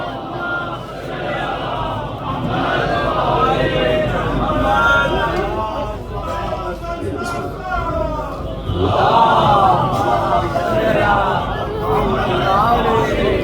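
A crowd at a Shia majlis in Larkhall Park, London, chanting religious slogans in unison, loud and continuous waves of many voices with a rising surge partway through.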